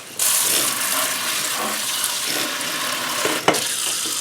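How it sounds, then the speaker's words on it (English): Asparagus being washed under a running kitchen tap, a steady hissing stream of water lasting several seconds with a small clunk toward the end and no speech. "Take your asparagus and make sure you wash it"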